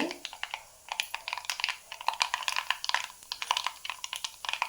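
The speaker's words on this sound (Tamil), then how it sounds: "கடுகு பொரிய ஆரம்பிச்சிச்சு." Mustard seeds pop and splutter in hot oil in a home kitchen pan, as dense rapid crackles and sharp spits fill the whole stretch at steady close loudness, with no voices.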